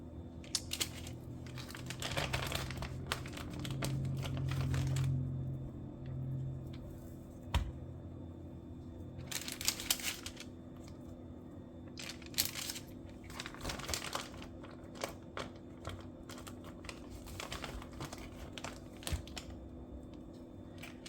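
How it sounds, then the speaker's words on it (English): Parchment paper crinkling and rustling close by as strips of bacon are laid out on it, several bursts of crackly handling separated by quieter pauses and small taps, no talking. "I'm going to line my bacon on this parchment paper"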